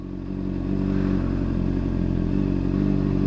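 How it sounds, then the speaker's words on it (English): Motorcycle engine idling steadily, then its low rumble sagging slightly as the clutch reaches the friction point, close and continuous without talk. "you can hear the engine slightly bogged down as the friction point hits"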